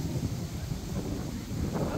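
Low blustery wind buffeting the microphone beside a pond, a steady rumbling rush with no voices.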